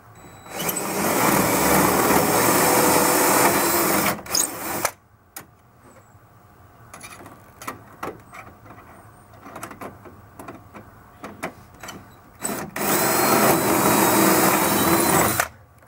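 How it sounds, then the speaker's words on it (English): A power drill with a long bit bores holes through wood held to a plywood straight edge while mounting boat aft trim and steps. Two loud sustained drilling bursts sit close by, and softer knocks and handling fill the gap between them. "I'm going to drill all six holes while this is clamped in place with this straight edge"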